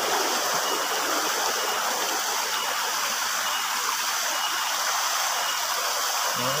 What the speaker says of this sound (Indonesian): Aliran sungai untuk pengairan sawah.